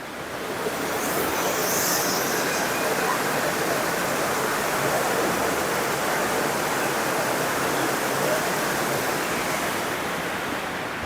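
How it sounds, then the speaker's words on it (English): A constant broad rush of flowing water fills the whole stretch, steady and fairly loud, like a weir or fast river close by. "Can you hear the water?"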